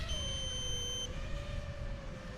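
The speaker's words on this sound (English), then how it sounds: "That's a 2-minute timer that I run in my radio to remind me to look at my battery voltage." An FPV radio controller sounds its two-minute battery timer as a short, steady high beep lasting about a second, over a constant background hum and engine-like drone.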